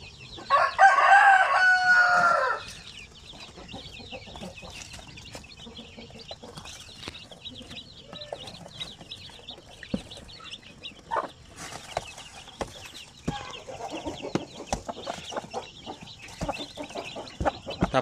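A Shamu Hazel rooster crows loudly and close by near the start, followed by a long stretch of scattered clucking and faint farmyard chicken sounds.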